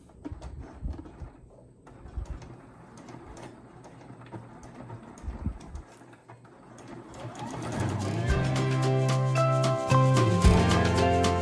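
Cloth jar bonnet, a fabric bowl cover, being stitched on a sewing machine: soft handling rustles and taps at first, then a loud, steady whirring hum of the motor and needle that runs close up to the end.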